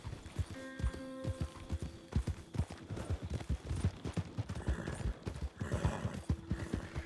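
Horse hooves clip-clop in Red Dead Redemption 2, a steady run of close, loud hoofbeats with a neigh and whinny among them and a few sharp cracks further on.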